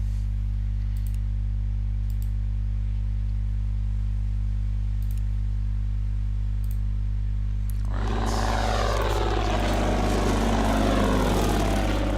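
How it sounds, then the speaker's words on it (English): An aircraft arriving in the WW2 strategy game Order of Battle, a steady low engine drone under faint interface clicks, then a sudden loud burst of roaring propeller noise and rushing air for the final seconds. "They've got a plane coming in"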